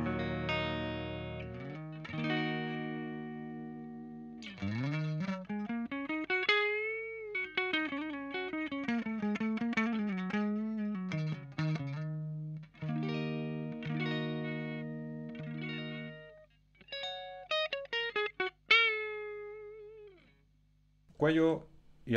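Ibanez RG550 Genesis electric guitar played through its neck pickup with distortion, sustained notes, bends and quick runs ringing out with reverb-like tails, pausing briefly between phrases, with no talking.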